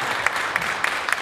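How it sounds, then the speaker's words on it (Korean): Brief, fairly soft applause from a church gathering, a steady wash of hand claps with a few sharper claps standing out at regular intervals. "박수 한번 쳐주십시오."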